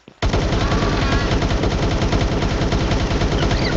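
Sustained rapid machine gun fire in a video game starts abruptly and continues loud and dense without a break, a fast unbroken stream of close shots with no talking.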